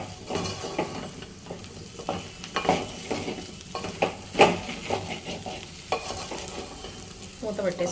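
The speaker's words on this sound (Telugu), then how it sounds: "బెండకాయలన్నీ కట్ చేసుకొని పెట్టుకున్నాం కదా, అవన్నీ కూడా ఇందులో వేసేసుకోవాలి. వేసుకొని బాగా ఒకసారి కలుపుకొని" Cut okra is stirred and fried in a pan, a continuous sizzle broken by repeated scraping strokes of a spoon in an uneven rhythm, close and fairly loud throughout.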